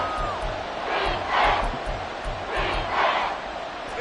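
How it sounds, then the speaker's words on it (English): Football stadium crowd at a Texans versus Jaguars NFL game, a broad roaring swell of cheering that rises and falls in two or three surges over a steady low rumble, with faint voices mixed in. "Well, this crowd into it now."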